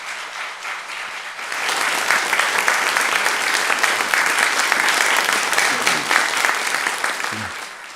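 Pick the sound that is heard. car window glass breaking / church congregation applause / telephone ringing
church congregation applause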